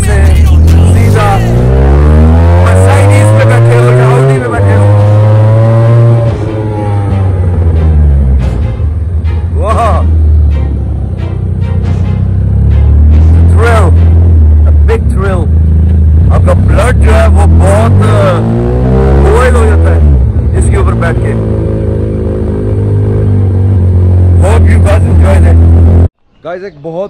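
A Ducati racing motorcycle's engine roars loudly throughout a ride, revving up and down in repeated sweeping surges with a steady low growl between them, while someone talks over it.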